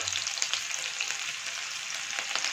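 Chopped onion, garlic and green chili frying in a pan for veg chowmein, a brief, even hiss of sizzling oil with faint stirring ticks.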